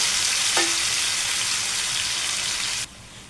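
Chicken leg pieces fry in a wide pan, a loud continuous sizzle that crackles close up, then cuts off abruptly near the end.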